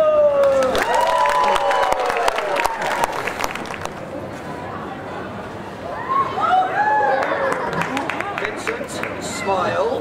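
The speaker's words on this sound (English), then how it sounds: "a big round of applause for Vincent!" Outdoor street-show crowd in Bath breaks into applause and cheering for a volunteer named Vincent, a loud, dense wash of clapping with whoops and voices chattering and calling out over it throughout.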